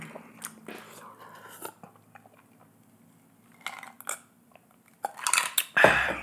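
Close-up chewing of spicy black bean fire noodles, with scattered wet bites, slurps and mouth sounds separated by quiet gaps, louder bursts near the end.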